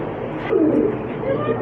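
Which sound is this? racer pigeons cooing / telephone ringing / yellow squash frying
racer pigeons cooing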